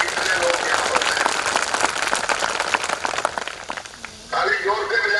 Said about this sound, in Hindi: ताली जोर से बजाएं भाई, ताली जोर से बजाएं